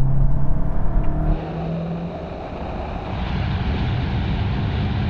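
Cars race side by side in a rolling drag race as a VW Golf GTI, Golf GTI Clubsport and Golf GTD kick down under hard acceleration. A loud engine drone and heavy wind roar build steadily and continuously, with no voices.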